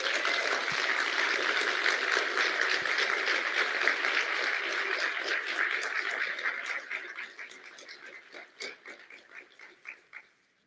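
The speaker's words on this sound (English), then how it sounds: "Let's all give them a round of applause." A conference audience gives a dense, loud burst of applause that holds steady, then thins into scattered individual claps before fading out.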